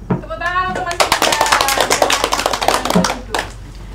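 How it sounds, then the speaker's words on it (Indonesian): Classroom applause for a student after his presentation on Pancasila in a civics microteaching lesson: a burst of many hands clapping for about three seconds, following a brief voice at the start. "Tepuk tangan untuk Mas Indra"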